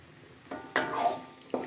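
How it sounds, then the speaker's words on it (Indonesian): Vegetable oil added to a drying spice paste being sautéed for young papaya curry: a few sharp scrapes and clanks of a spatula against the pan, with a soft sizzle in between, close and fairly quiet. "Kalau sudah mulai kering, ini akan saya tambahkan minyak sayur."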